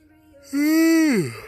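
A single long, drawn-out yawn, rising into a loud open-mouthed moan and then trailing off with a falling sigh.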